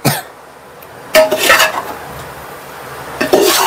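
Metal utensil stirring soybeans in a cooking pot, with scraping clinks in a couple of bursts against a quiet room background.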